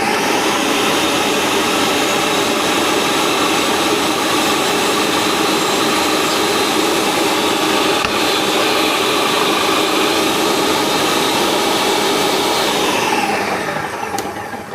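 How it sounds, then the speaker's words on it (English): A Ninja blender on its puree setting grinds radishes with a loud, steady motor roar, running close and alone for the whole stretch before it winds down at the very end. "This Ninja is a brilliant bit of kit for blending."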